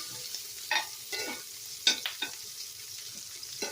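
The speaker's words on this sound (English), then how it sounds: "And then browning, I'm going to just flip them. Give them a little flippy flop flip." Mustard and collard greens browning in a pan and being flipped: a steady low sizzle with scattered scrapes and clatters as the leaves are turned, close and moderately quiet.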